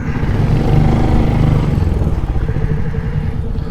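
A motorcycle accelerates hard on an open road into a headwind during a 0-60 run, either a Royal Enfield Shotgun 650 or a Hunter 350, with a loud, steady engine roar and wind rush throughout.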